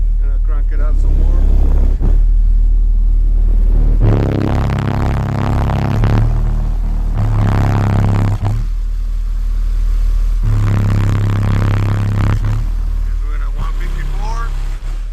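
A car audio subwoofer plays loud, deep bass at 35 hertz, a heavy continuous rumble that swells and dips while someone talks over it.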